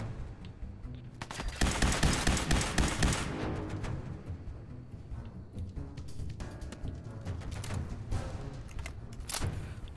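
Rapid gunfire from a firefight in the Fallout 4 video game, dense bursts of shots starting loud after a brief lull, then continuing as steady, slightly quieter volleys with sharp single cracks near the end.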